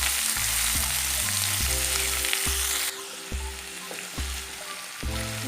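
Red spinach curry stir-fried in a pan with oil and dried chili, a loud continuous sizzle with rhythmic stirring scrapes, close and without speech.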